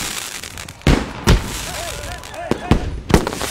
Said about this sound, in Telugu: ఏంటయ్యా ఈ టపాసులు ఎక్కడికున్నారేంటి?